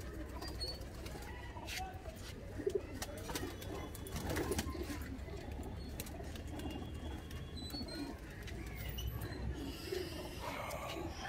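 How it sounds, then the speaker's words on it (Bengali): A Kala Jiriya pigeon in a loft coos in low, throaty phrases that recur across the stretch, alongside faint rustling and some quiet background voices. "একটা মুখী কালা জিরিয়া পায়রা দেখাচ্ছি"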